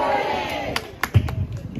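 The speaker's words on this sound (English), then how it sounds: "I get an applause just for saying good morning" Audience at a church plaque dedication answers a morning greeting with a brief burst of cheering and clapping that fades quickly into scattered claps and murmurs.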